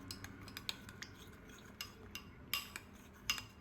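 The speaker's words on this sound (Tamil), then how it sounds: "ஃபுல் க்ரீம் ஆட் பண்ணிக்கோங்க, நல்லா மிக்ஸ் பண்ணுங்கள்" A spoon stirs full cream in a bowl, giving quiet intermittent clinks and scrapes of metal against the dish at an irregular rhythm, close and faint.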